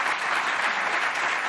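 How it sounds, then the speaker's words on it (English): Studio audience applauding on a late-night talk show, a dense, steady burst of clapping that fills the short moment without any voices over it. "Jimmy, I think they're applauding your Brokeback Mountain casino shirt."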